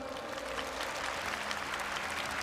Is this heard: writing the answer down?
no